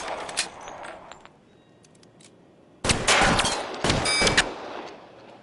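Gunfire in the LA Noire video game: a few sharp shots at the start, a quieter lull, then dense, loud bursts of rapid automatic fire with short pauses between volleys.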